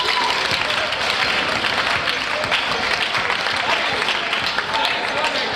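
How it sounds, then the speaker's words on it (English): Participants at a cricket tournament clap together in a loud, dense, uneven patter of hands, close by, with voices mixed in beneath the applause. "clap for yourself."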